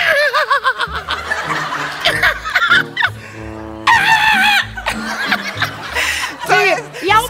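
A person's voice imitates a whinnying horse mixed with a rooster's crow, wavering shrill cries broken by laughter and short bursts of talk.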